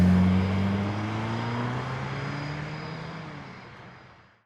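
Propeller airplane engine droning steadily, loud at first, then gradually fading away as it recedes into the distance.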